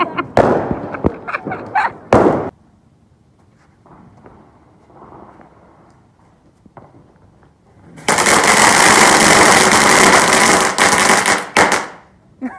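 Dense crackling bursts of firecrackers during a Diwali celebration, with a few sharp pops at the start, then a sustained loud rattling barrage for several seconds near the listener; brief voices precede the explosions.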